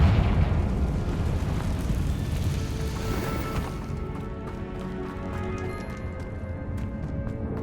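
A Confringo fire spell explodes in Hogwarts Legacy inside a tomb: a heavy booming blast opens, then rumbles and crackles as it slowly decays, followed by scattered lighter clatters.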